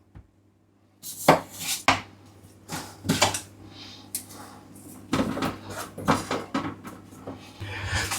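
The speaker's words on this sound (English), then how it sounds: "I'm doing cutting the potato in half, then I'm going quartering it, putting it into 3 sections and then 3 sections again" Kitchen knife cutting a potato into quarters on a board: a string of sharp, irregular chops and knocks, close and fairly loud, after a quiet opening second.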